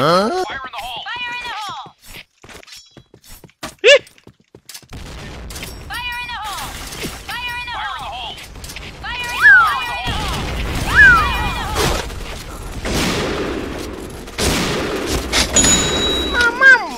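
Explosions and gunfire from a clan-war video game, with dull booms and bursts of shots scattered through the clip, mixed under excited shouting and talk from players.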